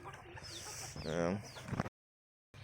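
A chicken gives a short clucking call among chicks and goats feeding, over a steady outdoor background noise, then the sound cuts off briefly.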